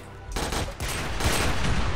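Rapid bursts of heavy bazooka fire and booming blasts erupt close by in a chaotic volley in Minecraft, sounding like game weapons and explosions.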